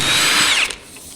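A power drill or impact tool spins out the strut top bolts on a 2010-2015 Camaro, using a 15 mm socket. A loud, steady whine runs close up for about half a second before it cuts off.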